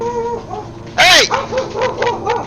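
Several pet dogs bark and yip close by, with one loud sharp bark in the middle, then whimpering whines and smaller yelps, while a voice talks over them.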